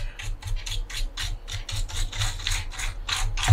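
A brush scrubs rapidly through the keys of a mechanical keyboard to clear out dust, making a steady run of close, dry bristly strokes about four per second. No voices are heard.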